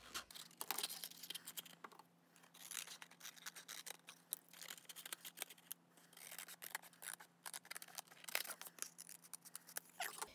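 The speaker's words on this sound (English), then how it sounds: "just trim a little bit more around the edges" Scissors snip around the edges of a paper or plastic cup body for a homemade scribble bot, a close, quiet run of quick cuts and crinkly handling with short pauses.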